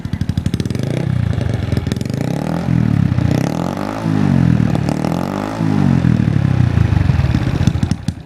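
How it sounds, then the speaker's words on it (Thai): A Honda Wave 110i motorcycle with a split aftermarket exhaust revving nearby, loud rhythmic blips rising and falling repeatedly over a rough, throbbing idle. "ไหนฟังเสียงหน่อย คันนี้เบิ้ลได้ไหมเบิ้ลได้"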